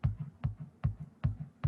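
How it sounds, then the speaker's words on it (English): A programmed kick drum in the Soundtrap online studio thumps four times on the downbeats in an even, deep, booming pattern, each hit followed by a softer low echo, with no voices. "That's what a kick drum sounds like."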